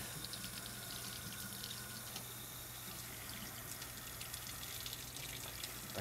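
Hot water from a gas heater runs from a tap as a steady, faint broadband hiss and splash, continuous and unbroken, with no talking.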